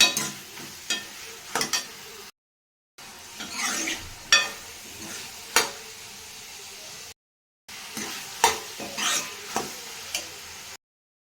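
Tomatoes sizzling in a pan for chutney while a ladle scrapes, stirs and crushes them in repeated strokes, broken by brief silent gaps.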